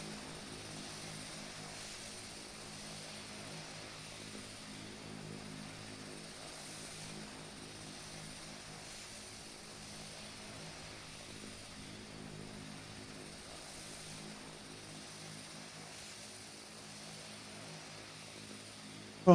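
A propeller airplane engine drones steadily after takeoff, a faint, even buzzing hum holding level throughout, with no one talking.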